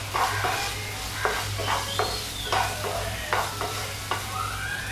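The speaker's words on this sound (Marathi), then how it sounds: "आता याच्यामध्ये आपण शिमला मिरची टाकून फ्राय करायला." Onion and capsicum fry in a hot pan for paneer chilli, a constant close sizzle under repeated scraping stirs of a spatula, with a low steady hum behind.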